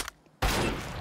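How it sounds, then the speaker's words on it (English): A single loud gunshot bang in Counter-Strike 2, a sharp blast after a quiet moment, ringing out and trailing into noisy reverb. "That was a fucking loud ass bang."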